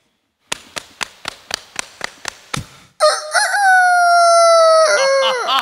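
On a comedy stage show, a boy imitates a rooster with his voice: about eight evenly spaced sharp taps come first, then one long, loud, drawn-out crow that rises and holds.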